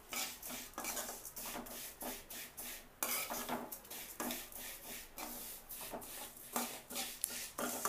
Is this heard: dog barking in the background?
no